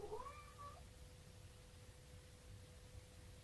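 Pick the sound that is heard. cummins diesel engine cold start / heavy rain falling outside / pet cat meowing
pet cat meowing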